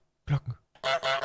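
Cartoon goose honking in Untitled Goose Game, a pair of short nasal honks followed by two louder, longer, harsher honks, close and clear with no talk.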